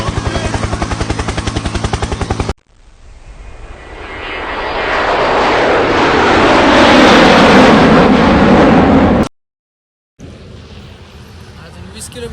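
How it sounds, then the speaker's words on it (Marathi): A helicopter passes overhead beside a road, its rotor and engine roar swelling to a loud peak and then cutting off abruptly, with a shorter stretch of engine noise before and after. "helicopter helicopter"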